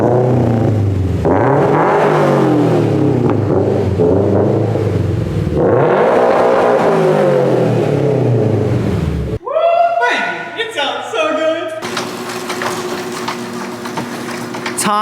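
Revving engine of a 2022 Subaru BRZ fitted with UEL headers and an overpipe, a loud rumbling drone rising and falling in long sweeps, then cutting to sharper, choppier revs near the end.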